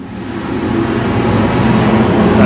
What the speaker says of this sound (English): That's a truck, and it's going from there to behind me